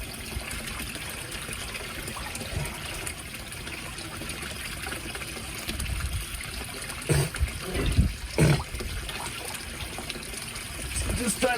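Water in a partly frozen garden pond is swirled by hand, giving sloshing trickles and a few louder splashes midway, close to the microphone over a constant wash of background noise.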